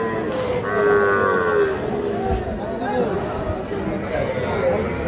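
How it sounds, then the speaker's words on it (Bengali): Young bulls moo and low repeatedly amid the busy chatter of a crowded outdoor cattle market at Ambari Haat, with people talking close by throughout. "এগুলো সব ষাঁড় বাচ্চা"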